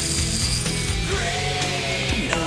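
A homemade 9-volt electric lock pick with a cam-driven mechanism runs in a fast, loud mechanical whir, rattling and ratcheting steadily through the short stretch with a buzzy, grinding texture.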